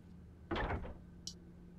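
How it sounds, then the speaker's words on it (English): A door eases open slowly in the horror video game Fatal Frame: Maiden of Black Water, a single muffled creak and rumble lasting under half a second over a low steady hum, followed by a brief faint click. "why are we opening that door so slowly?"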